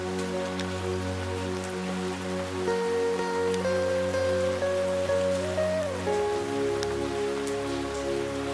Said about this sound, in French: Comme dit Gérard Jugnot, c'est la première fois qu'il pleut à Vannes depuis 37 jours